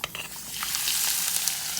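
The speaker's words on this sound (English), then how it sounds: "So the mustard seeds are popping now. Now I'll slowly add the onions and garlic." Onions and garlic go into hot oil with popping mustard seeds in an Instant Pot, and the sizzle quickly swells into a loud, steady frying hiss.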